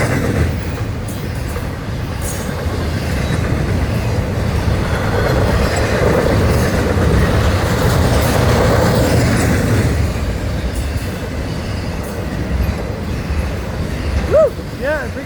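An FEC freight train hauling trailers rolls past close by in a continuous, loud rumble and clatter of railroad cars, with a faint voice near the end.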